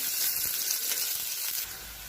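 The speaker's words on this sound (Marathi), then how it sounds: "यामध्ये भरपूर असा बारीक कट केलेला कांदा गॅसची मोठी करून चांगला कांदा गुलाबी रंगावर परतून घेऊ." Finely chopped onion fries over high heat in a pan with a dense, continuous hiss, near and steady, easing slightly at the end.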